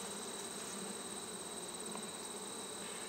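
Honeybees buzz steadily and densely around an open hive during an inspection of a brood frame, a continuous close drone with no pauses.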